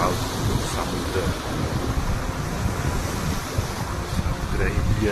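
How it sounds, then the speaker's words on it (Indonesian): Wind and sea sounds out on the open Indian Ocean, a continuous broadband rush of surf and gusting air buffeting the microphone, steady and loud throughout with no clear breaks. "Suaranya aja merem, burung air, laut, samudra"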